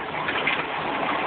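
Water runs steadily from a tap as a bowl fills for a 75 lb, 7-month-old dog named Rizzo, a continuous close, bright gushing rush with no break.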